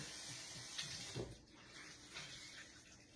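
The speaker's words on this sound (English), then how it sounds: "I'm going to run it under hot water" Hot water runs steadily from a tap over a cloth, a soft continuous splashing with faint handling sounds partway through.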